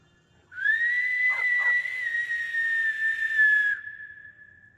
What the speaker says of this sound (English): That was a good whistle, wasn't it?